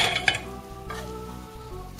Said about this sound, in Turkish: başka tenceremizi yerleştiriyoruz